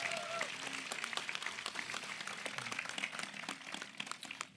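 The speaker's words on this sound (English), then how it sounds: "Can we give them one more round of applause" A crowd applauds at a high school graduation ceremony. The clapping is fairly faint and distant but steady and continuous, and a brief voice is heard at the start.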